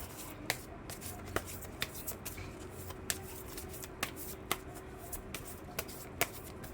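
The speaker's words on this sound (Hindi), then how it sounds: "Now let's take some cards from the moon deck." A Moon oracle deck of cards being shuffled by hand, with a run of crisp, evenly spaced riffle snaps and soft flicks, close and clear with no talk over it.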